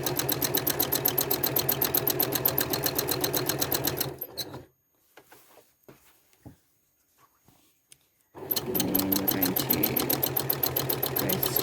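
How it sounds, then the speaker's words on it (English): A sewing machine stitches teardrop cluster quilting with a hopping foot, running in fast steady bursts of close loud stitching, stopping for about four seconds of near silence with faint handling clicks, then starting again. "it is a little bit easier to stitch with the hopping foot in a straight line"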